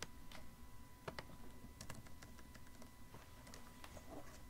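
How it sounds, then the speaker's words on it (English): Quiet computer keyboard typing, a steady run of soft key clicks at close range with small pauses, alone and with no talking. "We're gonna type cooking oil."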